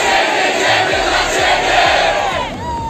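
Guests at a large Polish meetup event cheer and shout loudly together, a dense sustained roar of crowd voices with whoops, close and energetic throughout.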